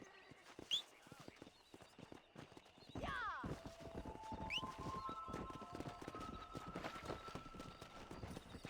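Horse hoofbeats clop steadily in the Western video game Red Dead Redemption during a riding race, with a whinny near the start and sustained musical tones rising beneath the hooves from about the midpoint onward.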